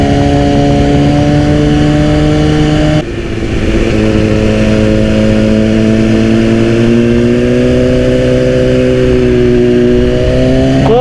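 A 2010 BMW S1000RR 1000 cc motorcycle engine drones loudly and steadily while riding, its pitch holding and then climbing gradually as the revs rise, with a brief dip around a gear change and no talking.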